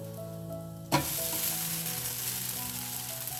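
Mung bean dosa batter sizzles and fries on a hot pan, a sudden loud hiss erupting after a quiet start and holding steady with crackling throughout.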